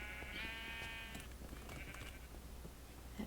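A sheep bleats loudly near the start in a drawn-out wavering call, followed by fainter bleats over steady ambient noise on a video game sheep farm.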